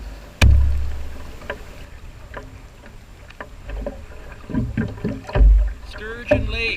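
Canoe paddling across Sturgeon Lake into a solid headwind, with hollow thumps of the paddle against the hull, water swishes and wind noise, and a few scattered voices over it.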